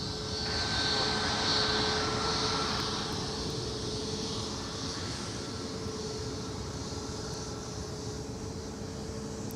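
A United Boeing 737 MAX 8 jet taxis at Minneapolis–St. Paul airport toward the runway, giving a steady broadband engine roar with a faint high whine. It holds at moderate, even loudness throughout, with no speech.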